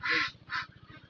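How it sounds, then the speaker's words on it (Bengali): White Pekin ducks on a farm give two loud, close honking quacks in quick succession, followed by softer, fainter calls. "এইটা সাদা হাঁসটা কি বেজিং না কি জানি একটা হাঁস আছে ওইটা নাকি?"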